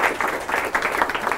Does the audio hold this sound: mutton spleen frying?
no